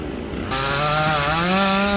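Chainsaw cutting through a large branch of a tree at an industrial park, starting up after a brief moment and then running steadily with a loud, close, sustained engine whine.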